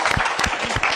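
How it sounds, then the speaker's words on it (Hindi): Brief burst of applause from a small group after a song, many hands clapping quickly and irregularly, close and lively. "के लिए जोर से तालियां।"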